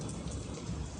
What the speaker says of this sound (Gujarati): બાપરે જો વરસાદ ચાલુ થઈ ગયો